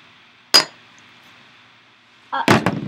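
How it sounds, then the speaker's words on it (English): A drinking glass is picked up for pouring an imperial stout beer: one sharp clink, a pause, then a cluster of clattering glassy knocks, close and fairly loud, with no talk. "Grab a glass."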